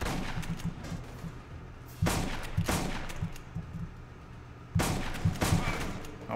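Gunfire from the Aliens: Colonial Marines video game comes in a few sharp bursts separated by quieter gaps, with a low steady game hum underneath.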